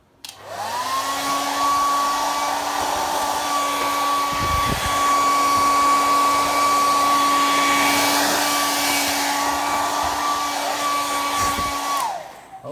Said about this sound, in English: I'm going to put the dryer on again,